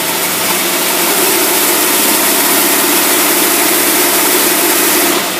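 A boat engine, put in gear with its fuel shut completely off, runs as a loud, steady mechanical drone that stays constant for about five seconds with no voices.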